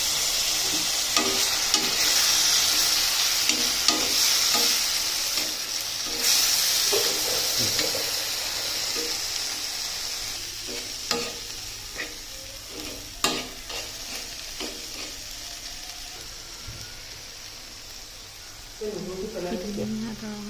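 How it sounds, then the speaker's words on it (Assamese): An egg tawa fry sizzles in a pan while being stirred, giving a steady frying hiss with scraping strokes of the spoon and a voice talking over it. "ধুনীয়াকৈ যাতে নধৰে সেইবাবে মই ধুনীয়াকৈ লৰাই গৈ আছোঁ"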